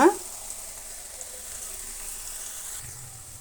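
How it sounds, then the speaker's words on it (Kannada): Pakoda frying in hot oil gives a soft, steady crackle and fizz after a brief knock at the start, quiet and continuous with no voice over it. "ನೋಡಿ ಗರಿ ಗರಿಯಾದಂತಹ ಪಕೋಡ ನೋಡಿ ಸೌಂಡ್ ಬರೋದು ಎಷ್ಟು ಚೆನ್ನಾಗಿದೆ"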